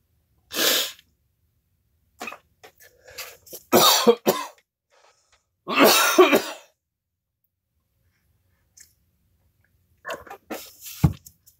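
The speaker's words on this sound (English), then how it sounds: "I'm gonna have a coughing fit here in a second if I'm not careful." A series of harsh coughs and throat-clearing bursts in separate clusters, loud and close, with silent pauses between them.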